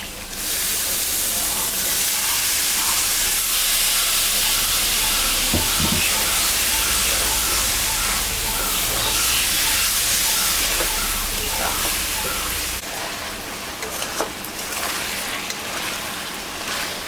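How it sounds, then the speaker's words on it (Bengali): Chicken meat hits a hot pan while a country-style chicken curry is cooked, giving a steady, broadband hiss and sizzle that stays loud and continuous throughout, with a brief clatter partway through. "এখন মাংসটা আমি দিয়ে দেবো।"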